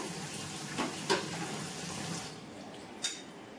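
Water running from a tap while rice is washed in a home kitchen, a soft steady splashing stream with a few brief louder splashes.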